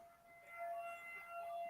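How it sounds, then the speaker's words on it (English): A tornado siren wails far off, a faint steady tone slowly rising in pitch, heard alone and thin through the quiet. "there is currently a tornado siren going off in the distance."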